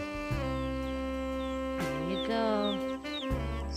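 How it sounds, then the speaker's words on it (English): Native chickens kept in a tall farm cage cluck and call in a steady chorus, with a short spoken word briefly heard over the birds. "He made this cage to raise native chicken."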